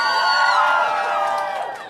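An excited crowd at an interview event with the Kardashian and Jenner sisters cheers and shouts loudly and continuously, a dense wash of raised voices that fades slightly toward the end.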